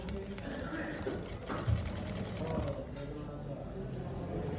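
A sewing machine stitches a waistcoat slowly, a soft steady mechanical whirring and clicking close by, with someone talking over it before the motor winds down.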